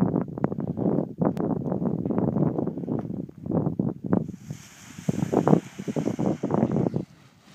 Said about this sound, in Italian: Ora vento ce n'è, puoi andare.